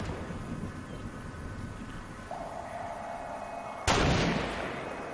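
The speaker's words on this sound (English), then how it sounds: "He's shooting at someone." Fortnite gunfire from a distant player pops faintly, and then one loud sharp shot cracks close by over a steady game ambience.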